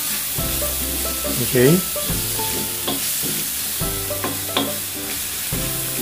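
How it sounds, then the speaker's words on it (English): Food sautés in oil in a pan for a tomato concasse pasta sauce, a steady close sizzle punctuated by spatula scrapes and knocks, with a voice briefly speaking over it. "we'll have to saute this until it is translucent"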